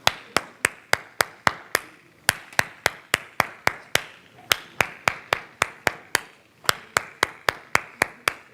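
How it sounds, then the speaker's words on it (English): Hands clapping a steady rhythmic pattern, about thirty crisp close claps in repeating groups with brief pauses between phrases, loud and alone. "So the last one is going to be a clapping rhythm."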